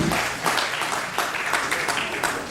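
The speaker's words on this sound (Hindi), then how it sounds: "एक बार जोरदार ताली इस पूरी आयोजन समिति के लिए" Audience at a transgender literary and cultural programme applauding the organising committee, a brief burst of brisk, dense clapping from many hands, fairly close and steady throughout.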